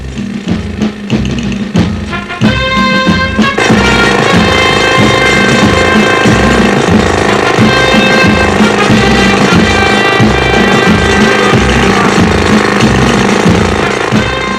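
Loud, continuous jackhammer-style pounding of a drill boring into rock, a steady heavy mechanical hammering that grows fuller after a few seconds, with no talking.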